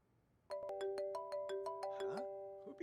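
A phone ringtone in the video game Unheard plays a bright, repeating electronic melody of evenly spaced tones, clear and close, ending with a brief rustle.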